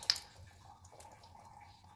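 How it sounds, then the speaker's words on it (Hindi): Dirty water drips from an opened RO water purifier pre-filter housing, with one sharp drip near the start followed by faint trickling and dripping over a low background hum. "ये देखो यहाँ पर गंदा पानी निकल रहा है"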